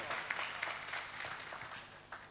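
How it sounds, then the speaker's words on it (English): An audience at a men's discussion event gives a round of applause, a faint, steady wash of many hands clapping heard from a distance without speech. "Give him a round in applause"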